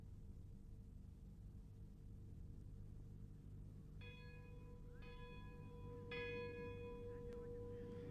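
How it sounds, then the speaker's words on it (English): A church funeral bell tolls in a 1960s Irish village in County Offaly, its strokes starting about halfway through and ringing out a few times, moderately loud over a steady low rumble of background noise. "the funeral bell is a melancholy reminder of inevitable change as years go by"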